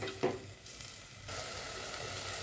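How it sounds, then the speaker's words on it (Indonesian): Chicken pieces sautéed in a pan for bakso aci, with a continuous close sizzle and a brief stirring knock near the start, the frying growing slightly louder midway, no voices. "tumis terus sampai berubah warna dan teksturnya menjadi kaku"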